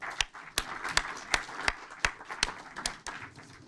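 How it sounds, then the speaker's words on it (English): Quiet, rhythmic clapping at a closing session of a conference, with about ten crisp claps at a regular pace over faint background murmur. "Let's give them a round of applause"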